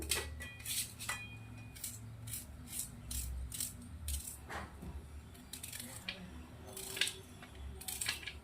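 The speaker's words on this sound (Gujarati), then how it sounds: "હવે આપણે ડુંગળીને ઝીણી ઝીણી સમારી દઈશું." Knife finely chopping peeled onion on a cutting board while preparing Rajasthani dal masala sabji, a run of sharp, fairly close taps in uneven bursts with brief pauses between them and no talking.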